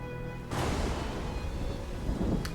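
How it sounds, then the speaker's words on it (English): Supercell thunderstorm in the video game Civilization VII, a sudden loud rumbling thunder burst with rain-like noise that stays dense and sustained, followed by a brief sharp crack near the end, with no talk. "Oh, and on top of that, we got a supercell thunderstorm."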